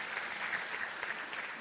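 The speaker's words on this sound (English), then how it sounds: "please give our speakers a round of applause" Dense, steady applause from a conference audience at an opening session of a European policy event, a continuous wash of many hands clapping, fairly faint and distant throughout.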